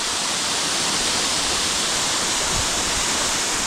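Wolf Creek Waterfall in Craik Forest roars as a steady, dense wash of falling water, loud and close, with no other sounds or voices.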